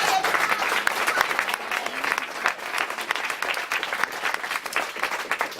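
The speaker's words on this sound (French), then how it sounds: "que nous applaudissons bien sûr du fond du cœur" An audience at a club's 30th anniversary evening gives steady, dense applause to the club presidents, a full room clapping continuously at fairly close range without pause.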